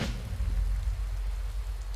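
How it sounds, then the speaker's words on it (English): Heavy rain pounding down in a dense, steady roar with a deep low rumble, loud and continuous throughout, without voices. "Man, the sound of rain is so loud it's drowning out the song requests."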